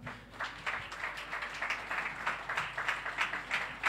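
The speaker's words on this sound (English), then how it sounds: "Let's clap for her." A church congregation in Kawangware claps to welcome a visitor. Moderately faint, fairly even clapping from a small group continues throughout with no voices over it.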